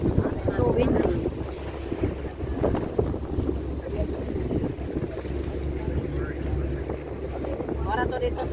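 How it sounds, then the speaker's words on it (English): Strong wind buffets the microphone along the Greenwich waterfront, a steady low roar throughout with a faint voice briefly audible beneath it. "So windy."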